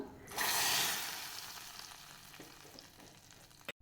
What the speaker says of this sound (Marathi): तडका देण्यासाठी तडका पॅनमध्ये 2 चमचे साजूक तूप घालून घ्यायचं आणि 2 ते 3 लाल मिरच्या घालायच्या